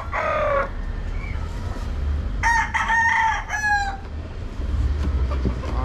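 A gamefowl rooster on a farm crows twice, loud and close, with a short call at the start, over steady background noise and no talk.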